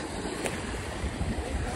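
Sea surf rushing and churning at Southend-on-Sea beach, UK, a brief wash of broad, rough water noise with no voices.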